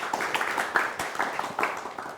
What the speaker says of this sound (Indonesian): tepuk tangan yang meriah sekali lagi